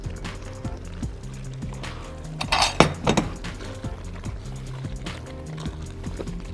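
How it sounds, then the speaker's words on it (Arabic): Dry pasta tipped into a pan of arrabbiata sauce gives a quick cluster of hard clinks and rattles against the pan, loud and close, over a low, steady background simmer. "هنزل بالباستا"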